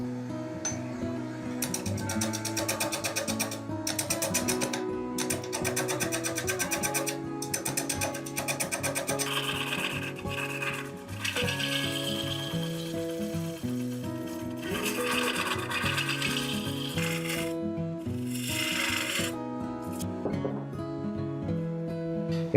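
A wood lathe turning a bowl held in a 4-jaw chuck gives a steady, loud mechanical whir with rhythmic rattling and ratcheting cuts, continuous throughout and close by, with no voices.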